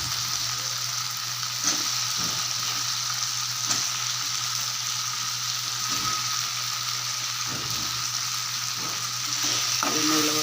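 Boiled elephant foot yam stir-fries in a pan with a loud, continuous close sizzle, broken by occasional scraping and tapping stirs of the spatula.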